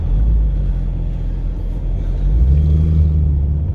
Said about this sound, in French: J'espère que vous entendez le bruit de l'échappement